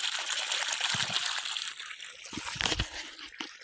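Fresh irrigation water runs into a sugarcane field, a close, continuous gush with a few splashes and sloshes rising near the end.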